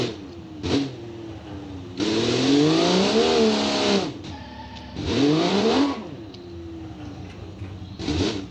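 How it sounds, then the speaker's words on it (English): A rear-wheel-drive manual inline-6 turbo Ute, the Kangaroo SS, revs hard in the BeamNG driving game, rising in bursts of acceleration with pitch sweeping up and dropping between gear changes, loud and close, separated by quieter idle stretches. "It's a rear-wheel drive manual inline-6 turbo."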